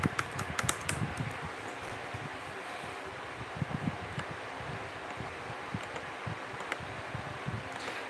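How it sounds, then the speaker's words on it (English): Computer keyboard typing, a quick scatter of light clicks and taps over a steady breathy background hiss, close and fairly quiet with no talking. "I'm typing something real quick."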